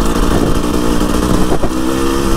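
Husqvarna TE300i two-stroke enduro motorcycle engine revving hard on a muddy trail, a loud continuous buzzing drone close to the rider that rises and dips briefly near the end.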